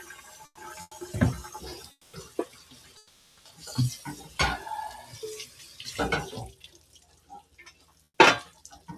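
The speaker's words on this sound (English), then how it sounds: "I'm also going to wash my little pan here" A small pan being washed under a running kitchen tap, heard as intermittent splashes, water bursts and clanks of metal in the sink, coming in irregular bursts with quiet gaps and a sharp clatter near the end.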